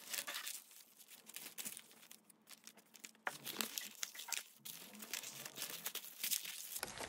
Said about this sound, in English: Let's fold it this way.